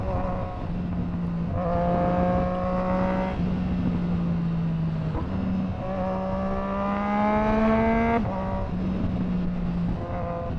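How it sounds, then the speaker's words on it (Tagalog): Engine of a Triumph Street Triple R motorcycle riding through city traffic, a steady droning note that rises in pitch under acceleration and drops with each gear shift, heard close under wind rush. "Grabe, sobrang bilis talaga pag nakamotor."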